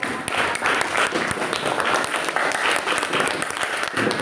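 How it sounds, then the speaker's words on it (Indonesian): Audience applause in a classroom or lecture setting after a student's presentation, steady dense clapping filling the whole stretch, moderately loud and close with no talk over it. "Berikan tepuk tangan."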